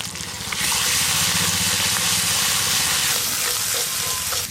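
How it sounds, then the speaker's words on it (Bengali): Whole spice masala with turmeric sizzles and hisses steadily in hot oil in a kadai over a village clay stove, a continuous loud frying sound with soft stirring scrapes. "খুব ভালো করে মশলাটা তেলের মধ্যে নেড়ে নিয়েছি।"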